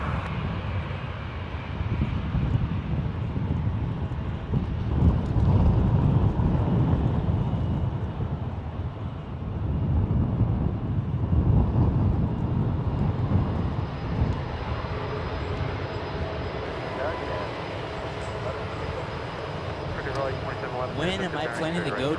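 Alaska Airlines Boeing 737-800 departing San Francisco International Airport for Seattle, a broad engine roar that swells and fades over the span, with someone talking over it.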